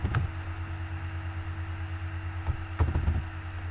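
Keys clatter on a computer keyboard in two short bursts, one at the start and another cluster about two-thirds through, each a quick run of close, crisp taps over a steady electrical hum.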